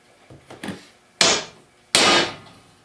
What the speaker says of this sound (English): if you want to get that hole exactly perfect, is take a punch and punch that